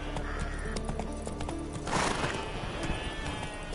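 Horse in a video game trotting with steady clip-clop hoofbeats throughout, plus a whinny and a louder neigh near the middle, all close and clear.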